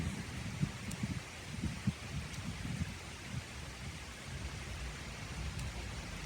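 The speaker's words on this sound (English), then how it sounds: "We're out walking in the rain." Soft, steady rainfall hisses in the background, faint and continuous, outdoors with turkeys nearby, with a few low thumps and footstep-like rustles close by.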